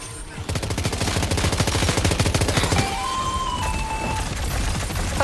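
Weapons fire in Death Stranding 2 as a loud, rapid automatic burst that stops abruptly partway through, followed by a lingering sustained tone and faint background noise.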